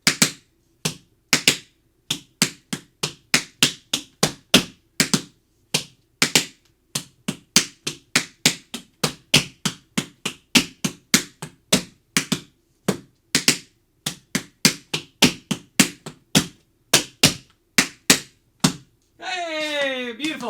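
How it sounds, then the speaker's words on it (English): Beginner tap shoes practising flap heel steps, a long run of crisp, evenly spaced taps in a steady rhythm, close and clear with no talk, ending with a brief burst of bright music. "I'm not going to count while we're tapping so you can hear your feet."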